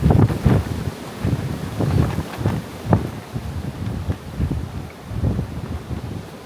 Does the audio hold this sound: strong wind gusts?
yes